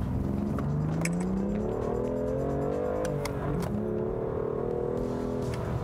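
A BMW M2 pulls away and accelerates, its engine droning steadily and rising in pitch as it climbs through the revs, heard from inside the car at a constant, fairly loud level with no talk.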